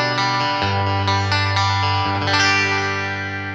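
A Gray Guitars Emperor electric guitar on its single coil pickup alone, strummed chords and picked notes ringing bright with effects and a slight distortion, loud and close with no talking.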